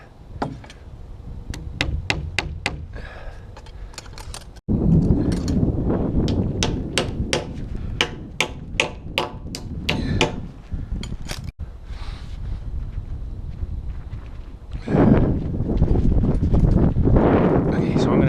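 Nails hammered into a board while framing a house, a quick run of sharp, evenly spaced strikes in several bursts, close and loud, with outdoor wind noise in the background.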